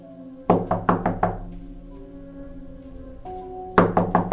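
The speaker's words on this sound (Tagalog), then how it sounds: "Sabay katok sa pinto." Knuckles rap on a door in two quick bursts of about five sharp, loud knocks each, separated by a pause, over soft background music.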